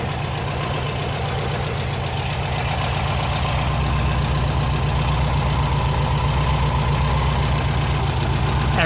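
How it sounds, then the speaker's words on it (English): A car engine idles steadily up close, a smooth low rumble with a fast even pulse and no other sounds. "Alright, she's idling pretty good."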